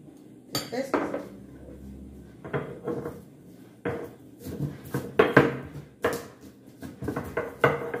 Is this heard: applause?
no